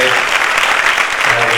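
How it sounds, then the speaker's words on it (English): Loud, continuous applause from a large crowd at the inauguration of a national tribal dance festival, welcoming a dignitary onto the dais, steady and dense throughout without a break. "with a big round of applause, we welcome Honorable MLA"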